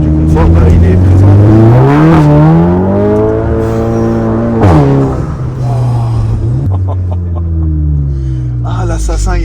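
A Golf GTI tuned to stage 2+ accelerates hard in first gear, its engine revving loud and rising steadily with a brief dip as it shifts, then climbing again, close and continuous throughout.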